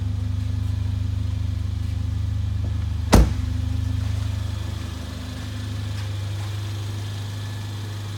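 A 2015 Mercedes-Benz GLA 45 AMG idles with a low, steady rumble from its engine and exhaust, broken by one sharp click or knock partway through, then settling back to an even drone.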